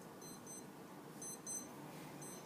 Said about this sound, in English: but that's my alarm.